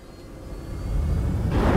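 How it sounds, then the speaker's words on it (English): Spacecraft engine rumbling during takeoff in the Star Citizen space game, a steady low roar that swells and brightens into a louder hiss near the end, with no talk. "Takeoff complete. Landing gear raised."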